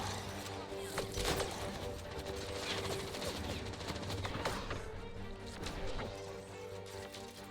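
Pistol fire and impacts sound during a combat scene in the video game Mass Effect Andromeda, with repeated sharp cracks over dense, continuous game noise and muffled background speech.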